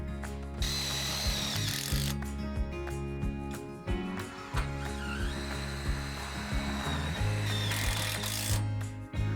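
A power tool whirs in short repeated bursts while tightening fixings on a greenhouse roof brace, with metallic clicks and ratcheting between runs, close and fairly loud.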